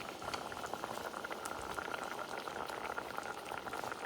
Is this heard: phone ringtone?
no